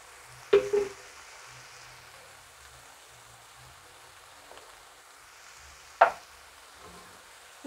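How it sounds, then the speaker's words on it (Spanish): Green salsa simmers in a pan with meat and tomato, giving a soft continuous sizzle, broken by two sharp clatters of utensils against the pan. "le vamos a poner la salsa verde y lo vamos a dejar que se termine de cocer"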